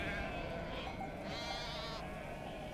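Sheep bleat repeatedly across a flock watched over by Anatolian shepherd dogs, several overlapping calls near and mid-distance over steady outdoor background noise.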